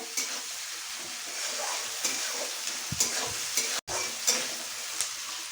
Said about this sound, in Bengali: একটু নুন দিয়ে দিচ্ছি পেঁয়াজের মধ্যে যাতে তাড়াতাড়ি ভাজা হয়ে যায় নরম হয়ে যায় পেঁয়াজটা